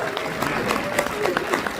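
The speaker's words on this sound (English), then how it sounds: "round of applause for another educator" An audience at a live Q&A with John Carpenter applauds an educator, a dense patter of clapping from many hands that continues steadily with crowd murmur underneath.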